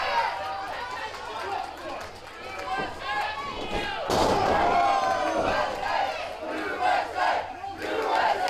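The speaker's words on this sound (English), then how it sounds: "USA chant coming out." A pro-USA wrestling crowd at a Mid-Atlantic Territory Wrestling TV taping roars out a loud, rhythmic USA chant that fills the arena and swells midway, with a commentator talking underneath.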